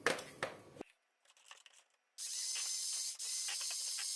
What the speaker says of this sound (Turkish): Krem şantimi bir güzel çırpacağım.